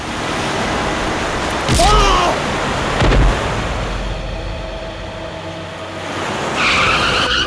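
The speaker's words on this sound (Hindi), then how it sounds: "ये अचानक मेरी गाड़ी के सामने आ गए, मुझे गाड़ी रोकने का टाइम नहीं मिला" A car brakes hard and skids to a sudden stop, tyres screeching loudly for about a second with a shorter scrape after, over steady background noise and no talk.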